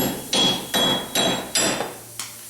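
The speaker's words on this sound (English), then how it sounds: "Now I like to use the biggest hammer I can find." Five heavy metallic sledgehammer blows knock out a car wheel stud at a steady pace, each ringing briefly before the next strike, close by with no talking.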